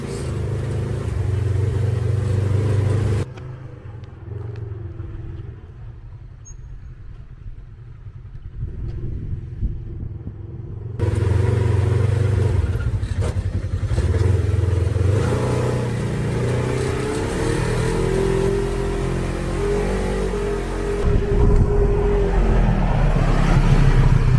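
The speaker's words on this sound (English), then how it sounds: "we actually took the RZR out to go ride down this like back road around the shop" Polaris RZR side-by-side riding down a snowy back road near a shop, its engine droning and revving continuously and loudly, easing off for a stretch before picking back up.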